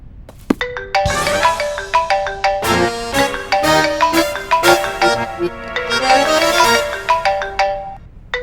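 A mobile phone ringtone plays a bright, repeating melodic tune, loud and close, with no talking over it.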